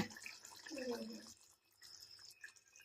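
Coconut milk is poured into a simmering mullikai kulambu, making a soft, faint liquid trickle and drip over about a second, followed by quiet bubbling.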